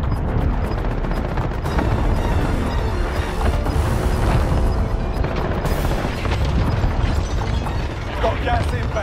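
Loud, continuous booming rumble of missile strike explosions in the video game Warzone on Rebirth Island, dense and sustained throughout with low impacts layered over game noise, with some voice activity mixed in.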